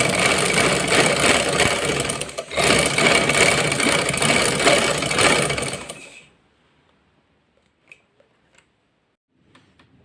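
A sewing machine runs steadily, stitching fabric for about six seconds with a brief pause near the two-second mark, then stops, leaving a quiet room with a few faint clicks and handling sounds.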